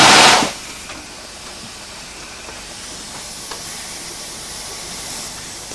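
A steam locomotive gives a loud, brief blast of escaping steam, then settles into a steady, quieter hiss with faint clanks.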